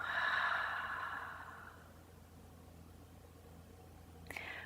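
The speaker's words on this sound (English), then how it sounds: "Inhale through the nose. And open the mouth, exhale." Open-mouthed exhale during a gentle yoga breathing exercise, a soft breathy whoosh that fades out over a couple of seconds, followed by quiet room tone and a faint click near the end.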